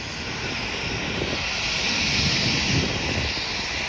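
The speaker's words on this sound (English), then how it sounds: "Yeah, so there's the postal airplanes." UPS and FedEx cargo airplanes fly overhead, engines roaring steadily in a loud, continuous drone with no voices.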